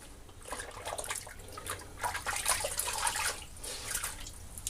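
Warm water runs from a tap during cleanup after a shave with a Merkur 37C slant razor, a steady splashing stream that swells and dips, close by with no talk.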